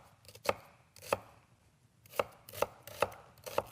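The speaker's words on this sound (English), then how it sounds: "And then cut your onion into smaller pieces." Knife chopping an onion on a flat surface for soup, sharp separate thwacks in uneven bursts, close and clear against a near-silent background.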